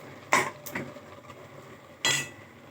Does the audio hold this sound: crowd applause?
no